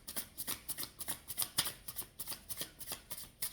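Tarot cards shuffled by hand while drawing a final card, a quick run of about fifteen rhythmic riffling bursts, close and fairly crisp, with no talking.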